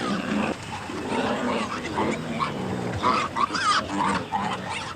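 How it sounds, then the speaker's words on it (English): Wild pigs with slashing tusks fight off an attacking leopard, a loud, chaotic stretch of squeals, grunts and snarls that runs continuously throughout, with harsh overlapping calls rising and falling. "Wild pigs with their slashing tusks are extremely formidable opponents, particularly when defending their families."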